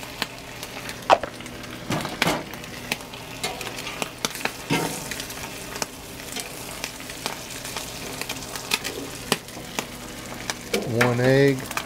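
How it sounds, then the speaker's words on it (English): Egg frying on a Blackstone griddle while making a bagel sandwich: a steady crackling sizzle with occasional scrapes and taps of a spatula on the flat-top, close and continuous. "Let's add our egg."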